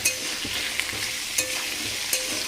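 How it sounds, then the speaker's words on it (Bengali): Mustard oil in a wok sizzles with black cumin seeds and dried chillies tempering in it, a continuous close crackling fry with a few light stirring knocks and no voices. "কড়াতে সর্ষের তেল আর কালো জিরে শুকনো লঙ্কা ফোড়ন দিয়ে দিয়েছি"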